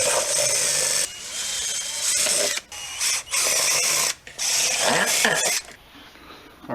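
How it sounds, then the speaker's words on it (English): A power drill with a 13/64 bit bores mounting holes in short, loud, high-pitched whirring bursts separated by brief pauses, close to the microphone. "we're going to drill the 2 outer mounting holes and the 2 inner fan mounting holes."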